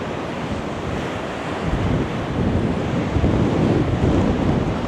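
Rough sea with high wind along Blackpool Promenade: waves crash and churn into a dense, roaring wash of surf and buffeting wind noise that grows louder toward the end, with no voices.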